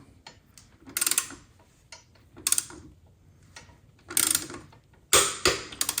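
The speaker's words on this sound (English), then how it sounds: "I love to get 3 clicks, so we'll get a few more just to be safe" Torque wrench ratcheting and clicking while a frame slider bolt is tightened on a 2023 Kawasaki Z650, several short close bursts of clicks separated by brief pauses, with no talking.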